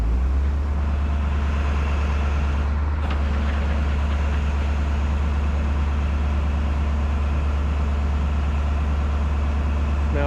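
A crane's engine runs loud and steady close by, a deep continuous drone while the cable is lowered during red oak log picking, with a brief dip near the three-second mark before the rumble carries on unchanged.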